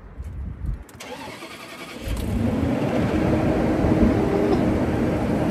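A car engine cold-starts after oil and gas are added. The starter cranks briefly, then the engine catches and settles into a steady, loud, rough idle close by.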